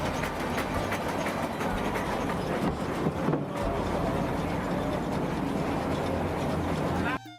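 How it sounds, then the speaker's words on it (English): An 1890 steam engine with a massive solid cast flywheel runs steadily, a loud, dense mechanical rumble and clatter holding constant throughout, then cutting off abruptly near the end. "Now the engine has caught its expansion rhythm and is firing back."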